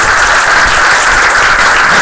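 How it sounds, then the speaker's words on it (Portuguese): A church congregation applauds during a Bible study service, producing dense, loud, steady clapping with no gaps and no voices on top. "Pode aplaudir Jesus?"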